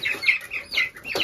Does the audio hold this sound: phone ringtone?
no